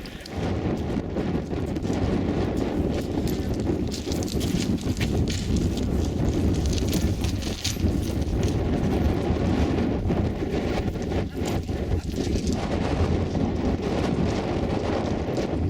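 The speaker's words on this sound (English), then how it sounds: "It's really windy out here. Really windy and really chilly." Strong, chilly wind buffets the microphone continuously, a heavy roaring rumble with gusty swells, alongside rhythmic clopping footsteps outdoors at LIGO Hanford.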